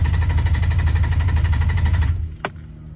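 Infiniti G35 engine cranked over without starting to prime oil before its first start in a long time: a steady, loud mechanical whirring drone that cuts off near the end, followed by a brief sharp click.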